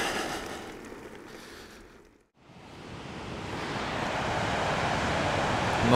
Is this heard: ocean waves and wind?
yes